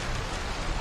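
Heavy rain pours steadily in a dense, even hiss with a soft low rumble, close and constant through the short moment, with no voices.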